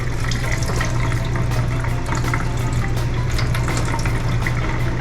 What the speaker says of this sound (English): Drain the juice.